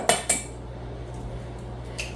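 An egg cracked into a mixing bowl in a home kitchen, two sharp clinks of shell on the bowl rim near the start, followed by quiet handling and a faint later tap over a low steady hum.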